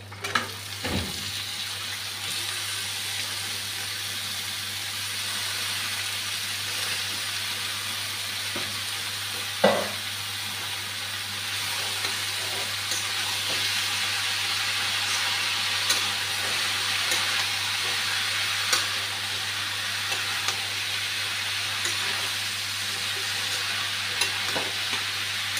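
Chopped bottle gourd hits hot fried spices in a pan for shrimp curry, a sharp clatter followed by steady, continuous sizzling and hissing with occasional stirring scrapes.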